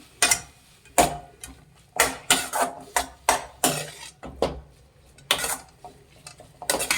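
A spoon stirs grated coconut into a pot of leafy greens curry, scraping and clanking against the metal in a rapid run of sharp, close knocks and rasps with short gaps between them.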